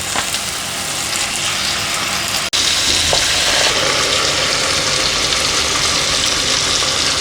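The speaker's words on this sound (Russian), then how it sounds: "Так все-таки жарить надо? Ну, чуть-чуть. На большом огне." Fish sizzles in a pan over high heat, a loud, continuous frying hiss with a brief cut partway through and faint crackles throughout.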